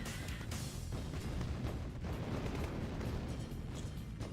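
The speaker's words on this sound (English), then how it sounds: "Oh, but that's a good airstrike." Airstrike explosions in the strategy game Tiberian Dawn, a dense, continuous rumble of booms and blasts with scattered sharp cracks throughout, loud and sustained with no pauses.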